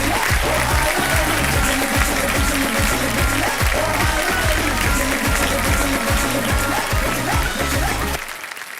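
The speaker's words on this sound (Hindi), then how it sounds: "देखो सब जोरदार तालियां बज जाएं इनके लिए" A studio audience at the Kaun Banega Crorepati game show breaks into loud, sustained clapping that holds at full strength and then drops away sharply at the end.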